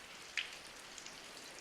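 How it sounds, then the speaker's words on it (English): Light rain patters in the city-building game Block'hood, a soft, faint crackling hiss with one brief tick near the start and a few small drops later, no voices. "It starts raining and these houses, they don't even have anything, any roof on top of them."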